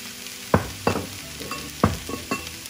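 Flaked tilapia fish sautéing in a pan, a soft steady sizzle punctuated by about five sharp spatula knocks and scrapes at irregular intervals, close and without speech.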